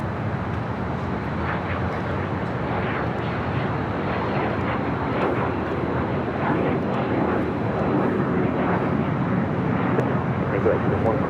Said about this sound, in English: flight coming in from Phoenix, Southwest Airlines Flight 3825 is 737 800.